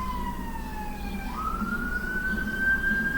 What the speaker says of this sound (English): is that ambulance in the background? Or fires? Or a policeman?